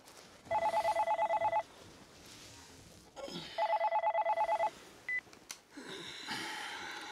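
A telephone rings in two long bursts of rapid electronic trilling with a pause between them. Brief beeps and rustling follow, clear and close, with no talk.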